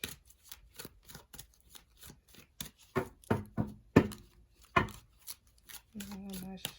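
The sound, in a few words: shuffling a deck of tarot cards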